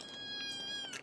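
A cat meows in a single drawn-out, fairly close call over a quiet indoor background.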